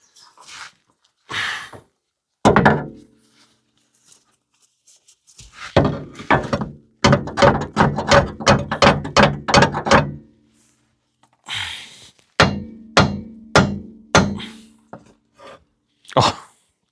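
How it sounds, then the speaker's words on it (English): Repeated sharp metallic knocks in steady runs, a hammer striking a 1974 caravan's wheel hard several times in quick succession, with pauses between groups; close and loud. "See if my hammer here can give it a bit of persuasion."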